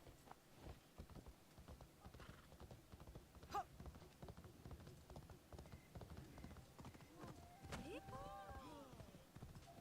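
Faint rhythmic clip-clop of horse hooves trots along steadily in Assassin's Creed Shadows, with someone speaking quietly over it.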